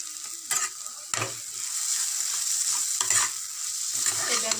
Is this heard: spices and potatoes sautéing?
yes